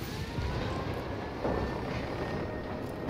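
A helicopter flies overhead in a video game, a steady low rotor rumble spread broadly across the clip, fairly distant and continuous with a slight swell midway, no voices over it.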